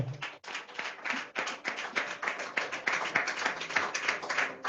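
A church congregation claps in acclaim during a Sunday celebration service, a rapid, irregular burst of many hands close by, continuing steadily throughout with scattered louder claps.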